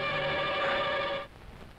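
A telephone rings in a 1992 Hindi film scene, a steady loud electronic ring with bright overtones that holds for about a second before cutting off, leaving quiet room tone.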